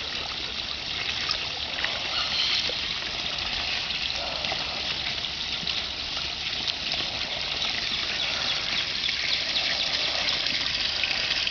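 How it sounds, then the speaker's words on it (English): A water tap turned on for six-week-old pet ducks runs in a steady, unbroken hissing stream from start to finish, with no talk over it. "Alright, Ducks, got your water turned on."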